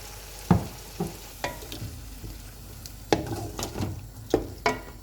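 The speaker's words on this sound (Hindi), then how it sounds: "अब मैं इसमें योगर्ट डालूँगी।" Whisked yogurt poured into a hot, sizzling pot of chicken biryani, with crackling frying and several sharp spoon-against-pot knocks and stirring scrapes, close and fairly loud.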